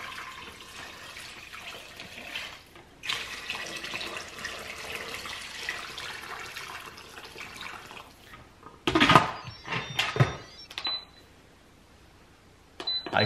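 Hot water pours steadily from a kettle into an Instant Pot, a continuous rushing stream with a brief pause, then a clattering burst of splashes and clinks near the end.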